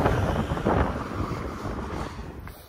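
Strong wind buffets the microphone in a steady, heavy roar with low rumbling gusts outdoors in Croatia, and nobody speaks.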